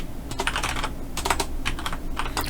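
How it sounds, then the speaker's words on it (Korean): Steady typing on a computer keyboard while entering text into an Excel spreadsheet, with quick irregular clusters of close, crisp key clicks over a constant low background hum. "타이핑할게요."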